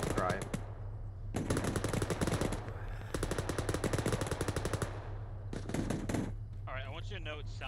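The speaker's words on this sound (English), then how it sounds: "it sounds like an exact war zone for me, with, like the gunshots right now" Rapid automatic gunfire in a Middle East door-kicking video game, long bursts of machine-gun shots rattling loudly with brief pauses, mixed with game effects and a voice near the end.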